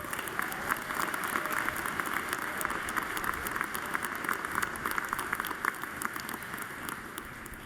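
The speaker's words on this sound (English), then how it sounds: "Let's give them a round of applause." A large arena audience at a graduate business school commencement applauds the musicians, producing steady, dense clapping that holds at an even level throughout with no talk over it.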